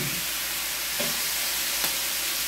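Meat and tomatoes for pinakbet frying and being stirred in a pan, a dense continuous sizzle with a couple of brief utensil knocks.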